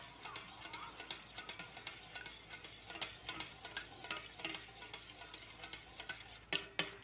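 Gentle sizzling of egg whites in a frying pan over low heat, with soft scraping and stirring strokes throughout, fairly quiet, ending with a couple of louder clinks.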